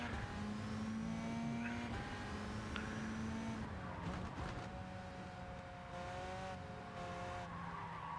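Race cars in Gran Turismo 7 growl steadily through the whole stretch, engine notes shifting as they drive on, with brief tyre squeals and skids mixed in and no talk over them.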